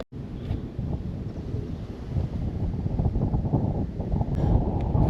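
Outdoor wind gusts buffet the microphone beside a van, producing a steady low rumbling roar that swells slightly toward the end, with no voices.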